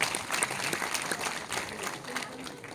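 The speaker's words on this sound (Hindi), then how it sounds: "एक बार तालियां बजा दीजिए" An audience at an RCM meeting claps together in a dense, steady round of applause. It sounds moderately near and slightly muffled and fills the whole short stretch.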